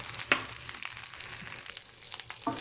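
Egg being stirred into garlic fried rice sizzling in a pan, a soft steady fry with scattered scraping and stirring clicks, close and moderately quiet, no talking.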